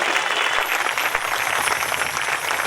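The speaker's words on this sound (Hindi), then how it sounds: "हमारे शास्त्री जी के लिए आप लोग सभी जोरदार एक बार तालियों से स्वागत करें।" A crowd at a religious gathering gives loud, dense applause that continues steadily throughout without pause.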